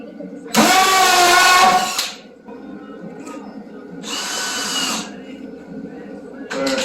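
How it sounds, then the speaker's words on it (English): A power drill whines loudly for about a second and a half drilling a pilot hole through pallet wood, stops, then runs again more softly for another second, with a brief burst at the end. "now what we'll do is drill the hole through just to get a pilot"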